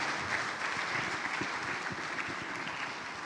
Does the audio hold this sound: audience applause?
yes